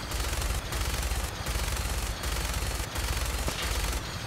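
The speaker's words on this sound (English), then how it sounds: "Yep, gunners are shooting at me" Gunners firing automatic weapons in Fallout 4: loud, sustained bursts of rapid gunfire in several long volleys broken by brief pauses, with no talking over them.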